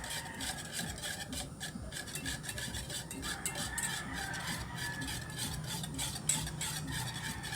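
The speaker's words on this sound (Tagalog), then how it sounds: "haluin muna natin bago natin idagdag ang iba pang mga ingredients" Ube cake batter ingredients stirred by hand in a tub, making a steady scraping, rubbing rasp with a rhythmic swish that continues close and moderately loud throughout, with no talking.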